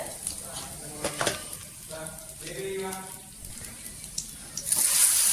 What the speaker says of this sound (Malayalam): നമ്മൾ മസാല പുരട്ടി വെച്ച മീനൊക്കെ ഇട്ട് നമ്മൾ ഇട്ട് കൊടുത്തിട്ട് നമ്മൾ ഫ്രൈ ചെയ്തെടുക്കുന്നുണ്ട്